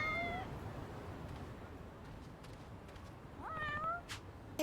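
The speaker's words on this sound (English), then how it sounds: "Here is more cats." Cats in the video game Lost Judgment give two clear meows, one at the start and a longer one a few seconds later, with quiet ambient background between them.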